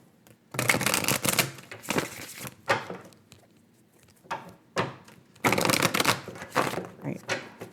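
Tarot cards are shuffled by hand in several separate bursts, each a crisp riffling flutter lasting about a second, with quiet gaps and softer handling noises between them, close up and with no talking.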